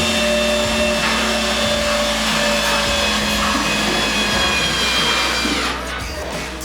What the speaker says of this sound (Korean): 이번에 시공되는 빔은 바깥쪽 기둥과 이어질 보빔이며 전동 호이스트를 사용해 시공대 위치까지 옮겨줍니다.